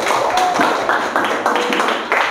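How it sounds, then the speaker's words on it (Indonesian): Classroom applause for a student group, a dense patter of many hands clapping in irregular bursts, moderately loud and close, with a faint voice in the background. "Tepuk tangan untuk kelompok 1."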